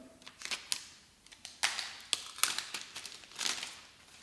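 A new can of two-part cyanoacrylate glue is opened up close, with a scattered series of sharp clicks, taps and crinkles of packaging, and no speech.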